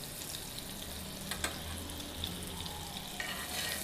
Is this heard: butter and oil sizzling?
yes